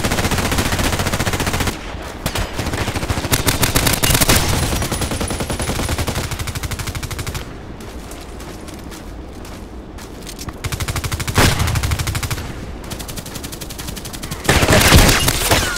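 Suppressed AS VAL rifle fire from the Contract Wars shooter rattles in rapid bursts, close and sharp, with short pauses between volleys and a few isolated shots.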